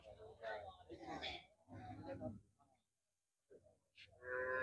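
Cattle at a livestock market for small and medium bulls, lowing in bursts mixed with the surrounding crowd chatter, with a brief quiet gap before the noise resumes.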